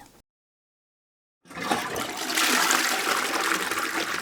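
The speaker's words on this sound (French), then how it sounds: "je vais vous mettre la vidéo d'une chasse d'eau" After a short stretch of silence, a toilet flushes loudly, with water rushing and swirling steadily until the end.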